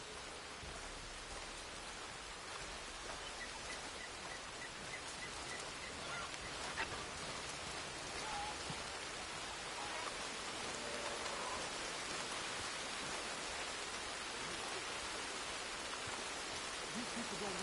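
Steady rainfall in the game Red Dead Redemption 2, a continuous even hiss of drops on surfaces running throughout without a break, with no voices over it.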